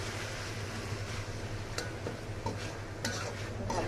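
Tomatoes with salt being stirred in a pan, a soft continuous low sizzle with occasional light scrapes and taps of a spoon, fairly quiet and close.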